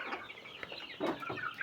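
Chickens, including young burgundy-coloured roosters, cluck in several quick, close, overlapping calls over a short stretch, with no speech.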